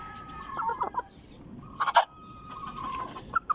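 Backyard chickens cluck in short scattered bursts at feeding time, with a few louder squawks around the middle and brief clucks again near the end.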